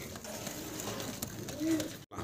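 Fancy pigeons at a Bangladeshi seller's coop give a brief, soft cooing phrase near the end, barely rising above a steady, noisy background hiss.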